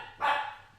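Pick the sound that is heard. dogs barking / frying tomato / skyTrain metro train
dogs barking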